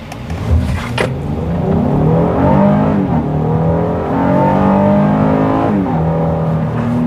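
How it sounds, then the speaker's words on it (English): A 2020 Honda Pilot SUV engine revs hard during an acceleration test, heard from inside as a loud, rising drone that climbs, dips with a gear change, then climbs again. "Even the revs and the engine sound, beauty."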